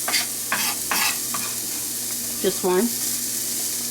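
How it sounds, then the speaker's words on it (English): A chopped shallot sizzles in a hot pan for a steak and mushroom risotto, a steady frying hiss with scraping stirs and a couple of clinks, while someone speaks briefly. "shallot's gonna go in"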